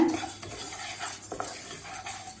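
Moong dal being dry-roasted in a pan on a slow stove, a spoon scraping and clinking against the metal in quick stirring strokes over a faint low sizzle, with no talking.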